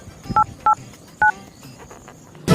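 Touch-tone phone keypad dialing in a rural household: three short two-tone beeps spaced about half a second apart, clear and close, followed by a brief burst of noise at the end.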